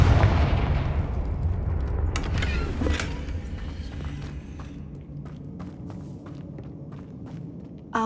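A Confringo fire-spell blast in Hogwarts Legacy opens with a loud booming rumble that gradually fades, followed by scattered sharp cracks and crackling debris.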